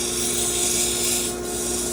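Hand sanding of a turned wooden pepper mill with fresh 150-grit sandpaper gives a steady, close back-and-forth rasping hiss, broken by a short pause partway, over a constant low machine hum.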